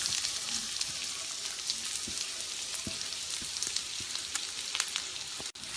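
Chopped onion, crushed garlic, ginger and green chilli fry in oil for pav bhaji, a soft steady sizzle with scattered small pops and stirring taps, heard close without talk.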